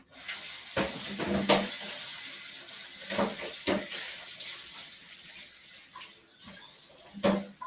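Running water from a tap splashes over celery stalks being rinsed, a steady close hiss broken by uneven splashes and knocks as the stalks are turned under the stream.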